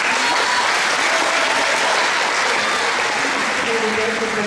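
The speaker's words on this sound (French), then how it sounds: "je voudrais que vous l'applaudissiez ce soir" An audience at a 2014 festival opening breaks into sustained applause, a thick continuous clatter of many hands with faint voices underneath.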